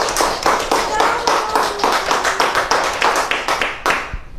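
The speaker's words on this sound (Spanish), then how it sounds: "nada más con el aplauso sabemos cómo le gustó al público el cuento" An audience at a storytelling event applauds, dense rapid clapping that stays loud and even for about four seconds and then tapers off near the end.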